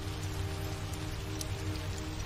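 Heavy rain pouring down steadily outdoors in a Western setting, a dense continuous hiss with occasional sharper drops, loud and unbroken throughout.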